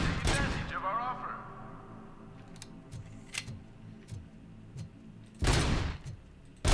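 Gunfire in the video game RoboCop: Rogue City inside a mall, a few sharp, loud shots with echoing tails separated by quieter stretches of distant clicks and thuds, with a voice speaking briefly near the start.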